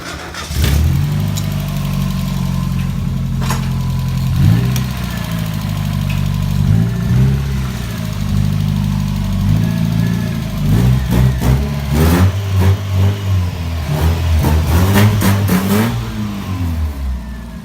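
A Mazda Miata's engine idles steadily, then revs up in repeated bursts, loud and close, with some clattering.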